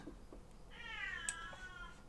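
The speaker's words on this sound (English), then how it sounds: "listen to that cat" A house cat meows once, a drawn-out, wavering cry in the middle of the moment, fairly close and clear against a quiet room, with a faint click or two around it and no talking.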